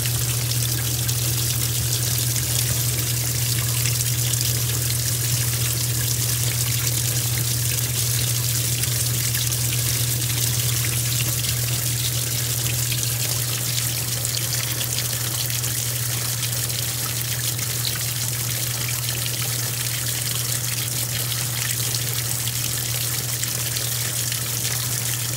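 A Kenmore Elite Calypso high-efficiency top-loading washer drains, giving a steady rushing flow of water over a constant low pump hum that lasts the whole stretch, close and even, with no voices.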